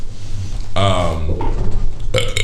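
A loud, drawn-out burp with a strong pulsing, voiced texture lasts under a second, sitting between background noise and brief talk in a casual indoor setting.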